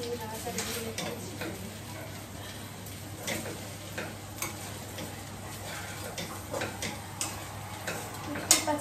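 Chowmein noodles are tossed in a pan with a utensil, producing soft, irregular taps and scrapes over a faint, steady sizzle, fairly quiet throughout.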